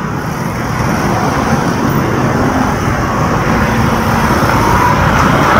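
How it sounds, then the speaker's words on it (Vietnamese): Dense rush-hour traffic jam on Nguyen Oanh and Ha Huy Giap streets in Go Vap, Saigon, with cars, buses and motorbikes crowding the road, making a steady, loud roar of engines and road noise throughout, with no talk. "Xe cộ rất là đông."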